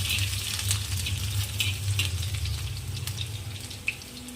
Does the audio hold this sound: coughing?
no